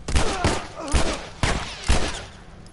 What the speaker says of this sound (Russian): Медленно он стреляет, конечно.